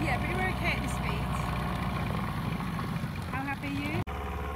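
A dinghy's outboard engine runs steadily while approaching a dock slowly at a Neilson sailing base in the Ionian, a continuous droning hum under talking voices.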